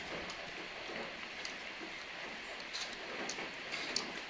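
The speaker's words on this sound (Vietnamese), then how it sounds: "Hôm nay là cơn mưa đầu mùa rồi." Steady rain of the season's first downpour, a dense even hiss with scattered faint drop ticks, continuous and moderately distant throughout.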